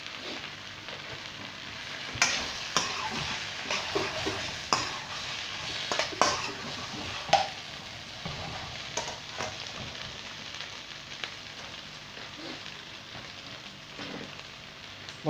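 Green peppers and onions frying in a pan for sweet and sour chicken, a steady sizzle broken by repeated scraping stirs and the clack of a utensil against the pan, close and fairly loud with no talking.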